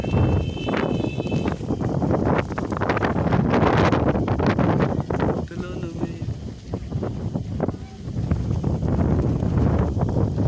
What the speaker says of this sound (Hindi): अभी बहुत ही तेज़ हवा आने वाली, हनेरी आने वाली है